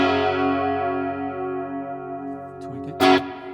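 An electric guitar chord through a NuX Mighty Plug headphone amp set to hall reverb rings out and slowly fades into a lingering wash, followed near the end by a short, sharp scratchy burst from the strings; no talking.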